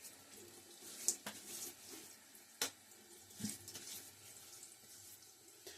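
At a bathroom sink before a wet shave, water is splashed onto a face, producing soft running-tap hiss with intermittent close splashes and slaps of wet hands, fairly faint and with no talking.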